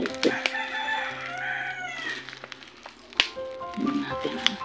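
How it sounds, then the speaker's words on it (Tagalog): A rooster crows loudly and close by, one long drawn-out call amid clucking fowl and other farmyard noise. Faint human voices can be heard in the background. "Sabay ng tilaok ng manok."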